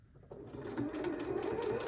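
A sewing machine stitches fabric for a Halloween wreath pillow, starting up and then running in a steady, close, fast mechanical whir.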